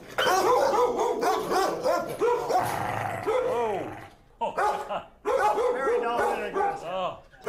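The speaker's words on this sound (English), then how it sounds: "This is where Ray keeps the bad dogs" Several dogs held in a kennel bark and yip in loud, rapid overlapping bursts with some growling, followed by a short pause before the barking picks up again.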